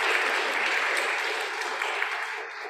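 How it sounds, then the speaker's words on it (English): A worship congregation in a church sanctuary claps for the readers and singers, a dense, steady patter of many hands that holds for nearly three seconds before thinning slightly at the end. "would you thank with a round of applause all who participated in"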